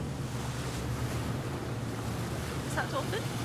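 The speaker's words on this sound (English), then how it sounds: "The only sound, the drone of the engine." A boat engine at sea drones steadily and evenly throughout, mixed with wind buffeting and the wash of waves, with no talking.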